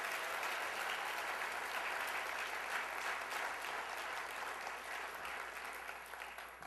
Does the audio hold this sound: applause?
yes